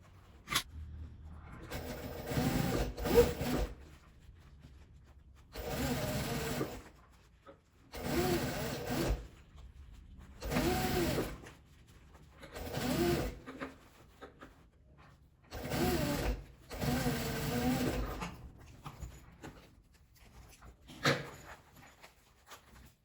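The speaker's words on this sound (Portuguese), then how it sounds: "E agora é só vir costurando ele em volta, dos dois lados." A sewing machine stitches around a half-moon zipper pouch along the bias binding, running in repeated bursts of a few seconds each, with short pauses between runs and no talking.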